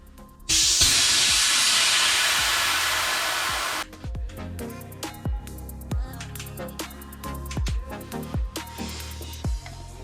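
Air rushes out of a tubeless bicycle tyre valve on a WTB rim in a loud, steady hiss lasting about three seconds, then cuts off, followed by a series of sharp clicks and small taps as the valve is handled.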